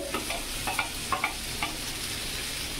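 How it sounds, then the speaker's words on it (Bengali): Onion, capsicum and tomato sizzle in a pan with turmeric, ginger-garlic paste and chilli powder for a soybean curry, a steady close frying hiss punctuated by a few light spatula scrapes and stirs. "পেঁয়াজটা কষানো হয়ে গেছে, ওর উপরে আমি ক্যাপসিকাম দিয়ে দিয়েছি।"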